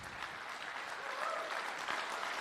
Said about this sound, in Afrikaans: ons gee die worship span 'n absolute lekker hande klap